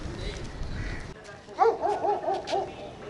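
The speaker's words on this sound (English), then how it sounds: "The dog is not happy." A dog in the seaside town of Gopalpur, Odisha, lets out a quick series of short, unhappy barks and yips midway through, moderately close outdoors, after a stretch of background street noise.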